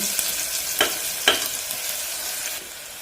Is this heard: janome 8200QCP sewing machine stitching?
no